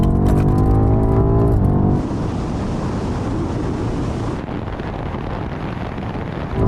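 BMW M8, M5 CS and M5 Competition accelerating together from 50 mph in a rolling drag race: a loud engine roar with rising harmonic tones that gives way to steady, heavy wind and road noise.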